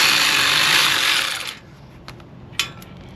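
Hand tool working a nut loose on a Harley Road Glide motorcycle exhaust, a close harsh grinding whir for about a second and a half, then faint clicks and a sharp metallic tap.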